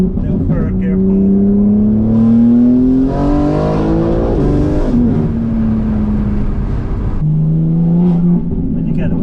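An 820 bhp BMW G80 M3 pulls hard in third gear, its engine note rising steadily in a loud, close interior recording, easing briefly before climbing again after a shift.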